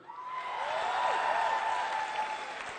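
An audience applauding steadily for a few seconds, a dense wash of clapping that swells and then holds, with no talk over it.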